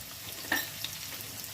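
Onion frying in oil in a pan, a soft, quiet hiss with a single light scrape or click of stirring early on.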